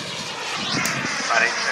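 A 21 ft wingspan SZD-54 Perkoz RC jet glider by Paritech on its first flight at Long Marston, a continuous airborne engine whoosh that swells slightly as it passes, with a voice over it.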